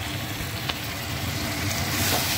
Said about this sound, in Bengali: এখন আমি এর মধ্যে অ্যাড করব এই ম্যারিনেট করা কাঁকড়াটা